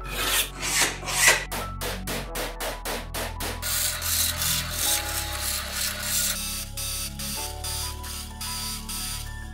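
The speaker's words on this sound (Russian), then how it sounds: "Вырезаю лист прямоугольной формы" Someone cuts a rectangular piece from 2 mm sheet metal, giving a rapid series of harsh rasping strokes that slow into a steadier grinding scrape, close and loud with no talk.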